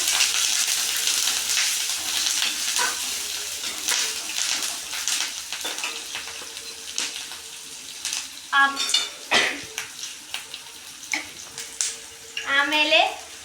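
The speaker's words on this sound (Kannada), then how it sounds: "ನೆಕ್ಸ್ಟ್ ನಾವೀಗ ಮೆಣಸಿನ್ಕಾಯಿ ಹಾಕೋಣ. ಎಲ್ಲ ಚೆನ್ನಾಗಿ ಫ್ರೈ ಮಾಡಿ ನೀವು." Chillies frying in a pan of oil for masala rice, giving a steady close sizzle with bursts of louder crackling and stirring clatter toward the end.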